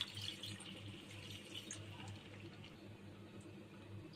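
Water pours steadily from a cup into a cooking pot of meat curry, a continuous soft splashing gush lasting a few seconds, close by and fairly quiet.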